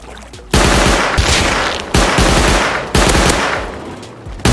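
Gunfire in the survival game Rust: three loud, close bursts of rapid automatic shots, each burst sharp-edged and lasting about a second, separated by brief pauses.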